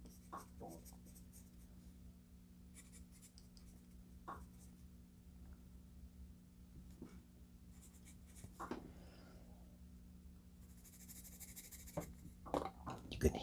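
A vintage government-issue pencil scratches firmly across paper in a quiet room, with faint intermittent strokes and short scratchy bursts, becoming busier and crisper near the end.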